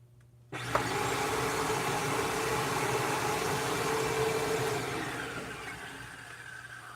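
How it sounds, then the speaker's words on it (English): A bagged Bissell vacuum cleaner switches on with a click after a brief quiet moment, then runs as a loud, steady motor whine with broadband airflow that eases slightly near the end. "So I'm going to plug the bagged Bissel in so I have a vacuum to clean up with."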